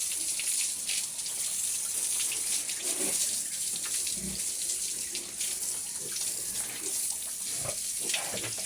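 Water runs steadily from a tap at an outdoor washing spot for bathing hens, a continuous splashing hiss with faint uneven spatters throughout and no voices.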